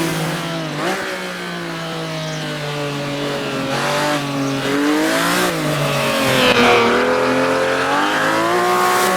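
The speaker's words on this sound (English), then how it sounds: "I'm driving around with a 250 LM Ferrari from AC Legends" A Ferrari 250 LM race car driven in the Assetto Corsa racing game on a laser-scanned Targa Florio circuit: a steady, loud engine drone whose pitch climbs and drops through gear changes and revs, continuous and close for the whole stretch.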